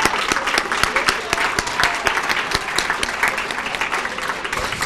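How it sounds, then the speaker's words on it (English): A large audience applauds youth employment program supervisors and team leads at a civic event, dense continuous clapping that stays loud and steady throughout, with a voice faintly underneath. "I want to give you a round of applause."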